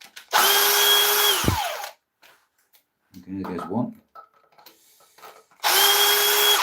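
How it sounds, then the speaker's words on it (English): A drill driver unscrews fasteners from the chuck jaws of a woodturning lathe in two loud, whirring bursts, each ending in a winding-down whine. A person speaks briefly in the pause between them. "I'm going to get the drill driver out just so I can remove these screws."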